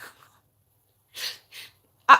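A few short, sharp bursts of breath, close and fairly loud, ending in a forceful sneeze-like blast against silence.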